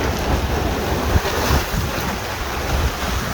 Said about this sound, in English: There's a lot of rain and a lot of lightning,